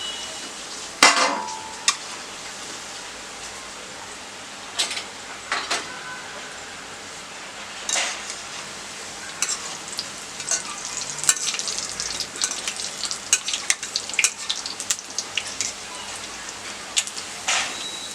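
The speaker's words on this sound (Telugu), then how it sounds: "మొత్తం అన్నీ కూడా ఇలా గోల్డెన్ బ్రౌన్ కలర్లోకి వచ్చేదాకా ఫ్రై చేసుకొని" Cabbage manchurian balls deep frying in oil until golden brown, a continuous bubbling hiss broken by sharp metal scrapes and taps of a spoon against the pan, close and fairly loud.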